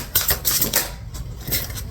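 Tarot cards shuffled by hand, a quick burst of crisp papery riffles and taps lasting under two seconds, close to the microphone, with no voice.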